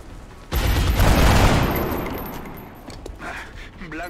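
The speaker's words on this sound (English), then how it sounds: "And take some shots at the infantry." A burst of gunfire from the XCOM video game, a dense crackling volley that rises abruptly and tails off over a few seconds, with faint game effects after it.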